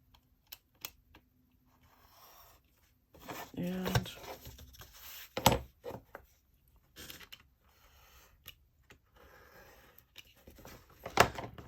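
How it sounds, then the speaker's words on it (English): A corner miter tool punches through the corners of a paper crochet and knitting journal, giving sharp, scattered clicks and crunches at close range, and someone talks over part of it. "I'm gonna get my corner tool and I'm just gonna cut around here"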